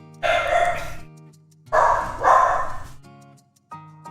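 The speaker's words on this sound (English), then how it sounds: "My dog's barking." A dog barks in two loud, close bursts of rapid barking separated by a short pause, with a faint low hum underneath and no talking.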